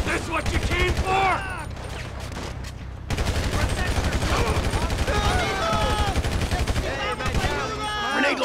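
Grenade launcher fire in Grand Theft Auto 5, with loud repeated blasts and gunfire-like bursts running throughout, mixed with game sounds and a speaking voice.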